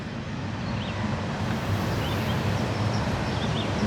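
Wind blows through a garden with a steady, rushing roar that buffets the microphone continuously, moderately loud and unbroken.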